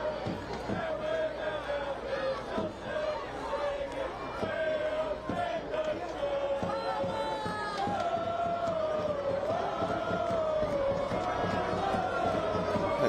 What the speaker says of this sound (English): This crowd packed in tonight in Southern California.